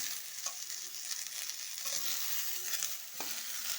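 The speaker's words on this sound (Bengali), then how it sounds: "সব একসাথে আবার ভাজা ভাজা করে নেব।" Chopped ridge gourd with salt and turmeric sizzles gently as it fries in a pan, with intermittent scraping strokes of stirring at a low, close level and no speech.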